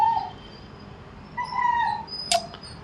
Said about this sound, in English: This dog's not very cooperative this morning.